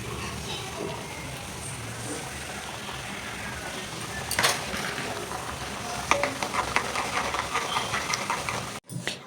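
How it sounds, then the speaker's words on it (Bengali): Nimki, crisp flour tea-time snacks, deep-frying in hot oil, a dense continuous sizzle and bubbling heard up close, with a few louder clatters and scrapes near the end. "একই রকম করে সব নিমকিগুলোই ভেজে নিচ্ছি"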